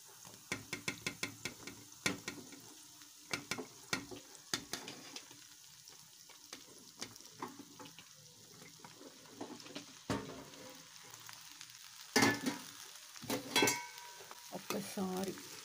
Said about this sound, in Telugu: ఇప్పుడు దీంట్లో నేను కట్ చేసి పెట్టుకున్న బెండకాయలు దీంట్లో వేసేద్దాం ఇప్పుడు.